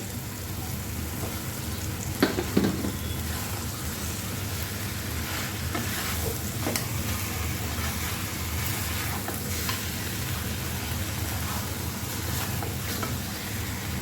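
Pre-fried rui or katla fish heads hit a hot pan with spiced muri ghonto masala, raising a loud continuous sizzle with occasional stirring scrapes, close and steady throughout.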